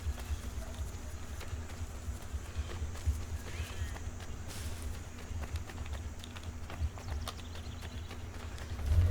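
Horse hooves clip-clop in steady rhythm through Assassin's Creed III gameplay, a continuous trotting beat over low background game ambience, with no talk.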